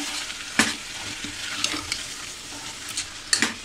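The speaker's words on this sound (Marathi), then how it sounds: "2 मिनटं आपण हिला जराशी परतून घेऊया आतमध्ये." Chickpea curry sautéing in a pan sizzles steadily while a spoon stirs it, scraping and tapping against the pan at irregular intervals, close and fairly loud with no voices.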